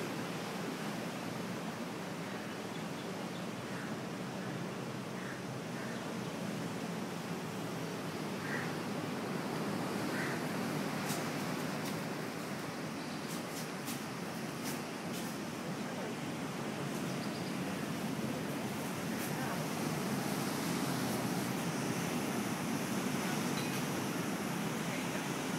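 Sea waves on the south coast of Sri Lanka wash in a constant, dense roar of surf, steady and fairly loud throughout with no talk.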